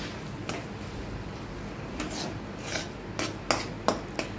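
A spoon scrapes and clinks against a pan while grated paneer is stirred in over a medium gas flame, giving irregular rasping strokes and sharper taps that grow more frequent toward the end.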